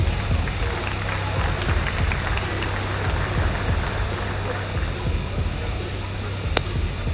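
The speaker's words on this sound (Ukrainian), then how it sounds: "Давайте привітаємо його в клані гучними оплесками." Loud crowd applause greets a fighter at a Ukrainian kickboxing and MMA fight night, a dense, continuous roar of clapping and crowd noise that holds steady throughout, with voices faint beneath it.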